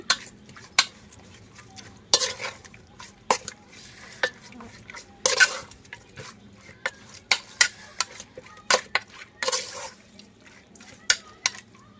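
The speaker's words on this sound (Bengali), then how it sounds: "এখন এই সব উপকরণগুলো একটু মেখে নিব" Beef mixed with ground coriander and garam masala for bhuna khichuri gives soft, irregular wet stirring and mashing with occasional sharp clinks of a utensil against the pot, fairly close and unhurried.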